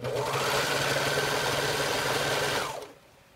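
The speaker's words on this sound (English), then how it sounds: "this is a 5-thread overlock with a chain stitch" A 5-thread overlock machine with a chain stitch runs a side seam on a maxi skirt, giving a loud, close, steady mechanical whir for nearly three seconds before it stops abruptly.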